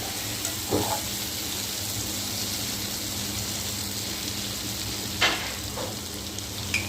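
Ivy gourd (kovakkai) stir-fry cooking in a pan, a continuous even sizzle that runs alone for long stretches, with a couple of brief spatula scrapes and clinks as it is turned.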